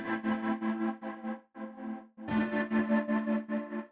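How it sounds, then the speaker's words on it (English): A creative guitar patch from the Native Instruments Komplete 15 software instrument, heavily effected with distortion and chorus, plays a steady run of rhythmic chords, briefly pausing twice before resuming, loud and alone with no talking. "It seems they have a lot of creative guitar sounds."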